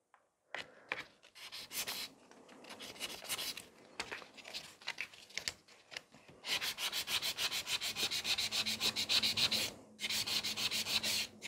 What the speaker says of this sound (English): I will buff it at first